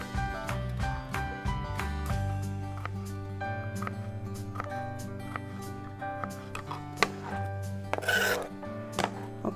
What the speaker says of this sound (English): So we'll just cut those up in little bitty slices.